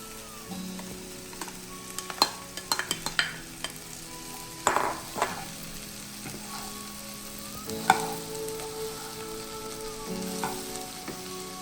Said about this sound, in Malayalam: വഴറ്റിയതിന് ശേഷം ഇതിലേക്ക് വെണ്ടക്കായ ഇടാം